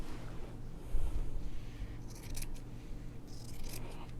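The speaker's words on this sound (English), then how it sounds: "I'm just going to trim the batting even with the strip set" Scissors hand-trim quilt batting even with a strip set for a quilt-as-you-go table runner, with quiet, close snips that come in short bursts midway and near the end over a soft background.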